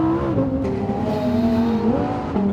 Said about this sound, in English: You've got to have it in sport mode to open the exhaust baffles.